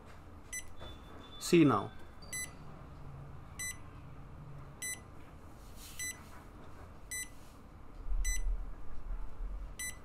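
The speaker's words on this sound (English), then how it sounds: "And third, the buzzer is getting on." A buzzer on a DIY BioAmp EXG Pill eye-blink detection setup sounds short, evenly spaced beeps, about nine across several seconds. They are faint and clipped in a quiet room, and a brief spoken remark and some handling noise come through.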